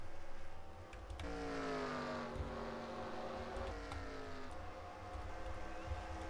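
Race car engines in a stock-car racing video game at Twin Ring Motegi, several engines whining and shifting pitch as cars pass and change gear, steady and fairly faint with no talk.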